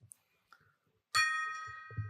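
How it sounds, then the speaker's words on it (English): A gong struck once, ringing out close and loud with a bright sustained shimmering tone that slowly decays, preceded by a few faint knocks and followed by low voice sounds. "Hit the gong, Randy."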